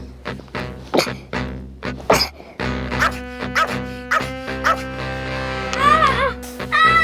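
A puppy barks and yips repeatedly in quick bursts, close and loud, with whimpering, high-pitched cries near the end.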